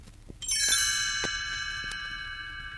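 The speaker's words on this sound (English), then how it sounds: "You will know it is time to turn the page when you hear the chimes ring like this." A bright chime rings out alone, one struck tone followed by a shimmering cluster of bell notes that sustain and slowly fade, marking the turn of the page in a read-along Cinderella storybook.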